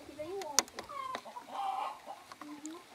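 Two roosters fighting nearby, clucking and squawking in short agitated calls and a sharp cry in quick succession, fairly quiet, on a farm.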